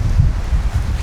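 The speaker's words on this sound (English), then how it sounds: "It's so windy, it's very cold." Strong, cold wind blows outdoors in winter at a rural cottage garden, a steady low rumbling buffet close on the microphone with gusty swells and no pauses, and no voices present.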